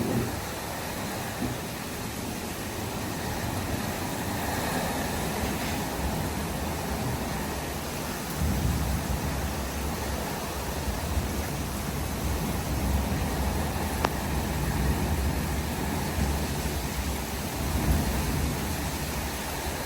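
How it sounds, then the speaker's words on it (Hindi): A heavy storm with rain gives a continuous broadband roar and hiss of wind and rainfall, steady for about twenty seconds, with no distinct thunderclaps. "बिल्कुल तूफान है"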